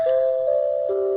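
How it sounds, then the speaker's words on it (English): A doorbell chimes a few sustained, bell-like tones that step from one pitch to the next, clear and close, with no talking. "listen to that doorbell"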